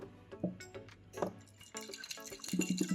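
Cold fridge water poured into a glass holding mint lemon syrup, with gurgling and dripping splashes that come in short bursts close by, getting fuller toward the end.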